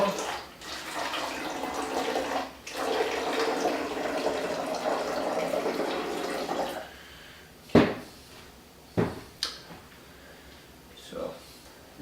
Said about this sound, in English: Let's put some vinegar into our bottle.